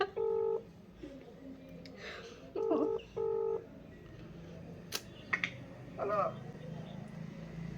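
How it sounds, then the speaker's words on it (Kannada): Keypad tones from a mobile phone as a call is dialed, several short beeps in uneven bursts with a pause between groups, heard close against a low background hum with a few faint clicks. "ಇವಾಗ ನೋಡಿ ಕಾಲ್ ಮಾಡ್ತಾಯಿದ್ದೀನಿ ನಮ್ಮ ಅಮ್ಮನ ಫೋನಲ್ಲಿ"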